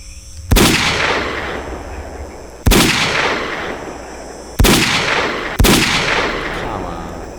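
Gunfire from a modded S.T.A.L.K.E.R. Call of Pripyat game: four loud, sharp single shots spaced a couple of seconds apart, each trailing off in a long ringing decay.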